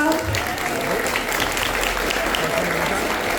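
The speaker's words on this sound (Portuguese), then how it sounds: "Palmas, pessoal!" Audience applause fills a school event celebrating Brazilian folklore and Câmara Cascudo: steady, dense clapping that holds evenly throughout, with voices murmuring underneath.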